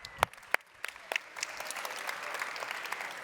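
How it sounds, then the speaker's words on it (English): At a Pro Tour Sunday watch party, a small crowd applauds the day's first bingo with a few scattered, sharp claps that quickly thicken into steady applause. "applause for our first bingo of the day"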